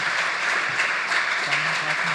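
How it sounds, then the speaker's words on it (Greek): Applause from an audience closing a student session on volunteer Formula-style teams, a steady, dense wash of clapping filling the whole moment with faint voices mixed in. "ένα χειροκρότημα ακόμα για το κλείσιμο"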